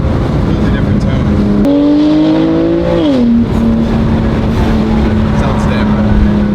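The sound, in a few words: BMW F87 M2 Competition S55 engine with Valvetronic Designs exhaust revving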